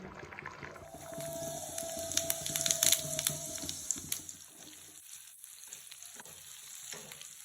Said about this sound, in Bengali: আমার এখানে দেখো পেঁয়াজটা ভাজা ভাজা হয়ে গেছে